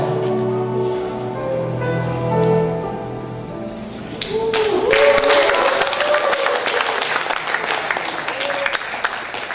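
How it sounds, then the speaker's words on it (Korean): A poetry recital audience breaks into applause. Many hands clap loudly and densely for several seconds, and a voice speaks over it at the start. "네분 남성가님께 모두 뜨거운 박수 부탁드립니다"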